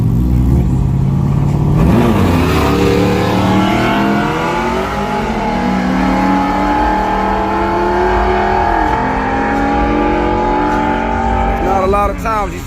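A truck and a motorcycle race under the lights at a loud motorsport event, with engines roaring and revving steadily through shifting pitches and a sharp rise near the end, the noise continuous and close.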